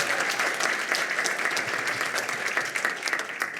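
An audience applauds at a panel discussion on heritage brands in South Africa, with dense, steady clapping throughout that stays loud and even from start to finish.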